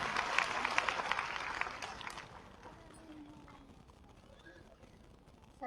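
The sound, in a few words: audience applause for Sunita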